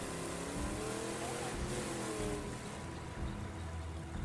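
A car driven in State of Decay 2 gives a steady engine drone, broad and continuous throughout, with no voices over it.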